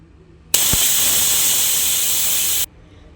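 A pressure cooker whistle: a loud, sustained hiss of escaping steam bursts out abruptly, holds steadily for about two seconds, then cuts off sharply.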